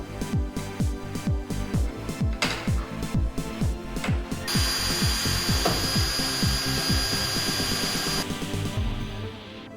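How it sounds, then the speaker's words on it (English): A power drill drives screws to fix the canvas of a renovated Westfalia pop top onto a VW Vanagon T3 bus: rapid rising whirring pulses at first, then one long steady high whine before it cuts off. "We then proceeded by screwing the canvas on the bus."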